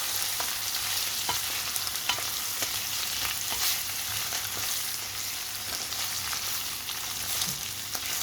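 Onion and seasoning sautéed in a pan for a beef ares dish, giving a steady close sizzle with scattered light stirring clicks throughout and no talking.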